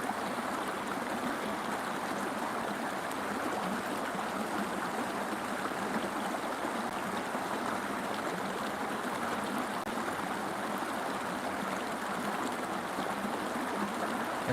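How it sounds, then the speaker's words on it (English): A flowing stream rushes in a steady, even wash of water noise, constant and fairly soft, with no voices over it. "It's nice to hear water in the first thing in the morning."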